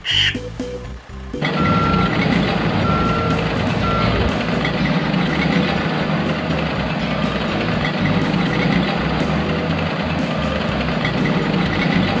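A video-game compactor garbage truck reverses with a steady, loud repeating backup beep over a constant engine drone, sounding alone after a brief opening sound.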